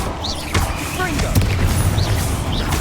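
Confringo blasting-spell explosions in Hogwarts Legacy burst out as a few sharp booms and crackles amid whooshing spell effects, loud and close, with a voice calling out spells over the action.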